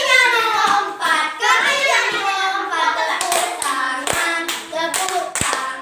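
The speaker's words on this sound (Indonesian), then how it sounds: "tepuk tangan" Children clap their hands in crisp rhythmic bursts during a children's song about the angels of Allah, sung without instruments, with young voices singing between and over the claps.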